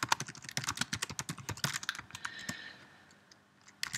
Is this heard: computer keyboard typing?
yes